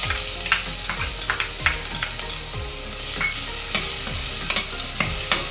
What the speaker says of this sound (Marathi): कांदा थोडा ब्राऊन होईपर्यंत आपण परतून घेणार आहोत।